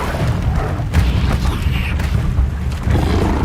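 An Incendio fire spell blast in Hogwarts Legacy, a loud, rumbling burst with deep booming low end and crackling flare, sustained for a few seconds without a voice.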